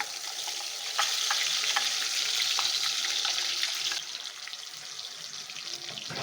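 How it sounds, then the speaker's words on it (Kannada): Freshly ground masala paste frying in oil over a low flame for Punjabi rajma, giving a steady, close hissing sizzle with light stirring ticks that eases slightly toward the end. "ಲೋ ಫ್ಲೇಮಲ್ಲಿ ಇಟ್ಟು ನಾನು ಮಸಾಲೆ ಸ್ವಲ್ಪ ಫ್ರೈ ಮಾಡ್ಕೊಳ್ತಾ ಇದ್ದೀನಿ"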